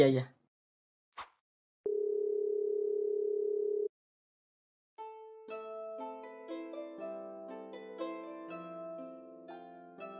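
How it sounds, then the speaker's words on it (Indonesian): A phone call being placed again produces a steady electronic ringback tone lasting about two seconds after a short click, then a pause before a melodic electronic jingle of tones follows; no voices are heard. "Ya udah coba telepon lagi, Roy."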